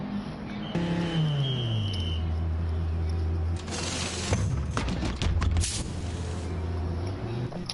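A race car drives during a race, its engine tone sweeping down then holding a steady drone, with later rattling, clunking mechanical noises and bursts of sound.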